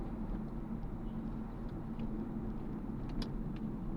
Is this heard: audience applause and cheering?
no